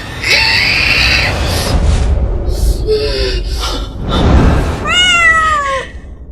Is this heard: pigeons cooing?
no